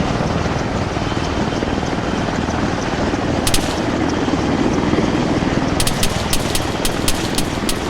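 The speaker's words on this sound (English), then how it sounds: "So this is the light Orca attack helicopter." A light Orca attack helicopter in Arma 3 flying with loud, steady rotor and turbine roar, with a brief burst of sharp cracks midway and a rapid series of gunfire-like snaps near the end.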